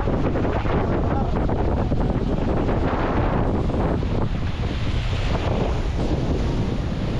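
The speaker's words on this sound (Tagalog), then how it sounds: "Lakas ang hangin." Strong wind from a forming low-pressure system in Mindanao buffets the microphone in a constant, loud rumbling roar, with gusty rushing noise and a hint of surf beneath.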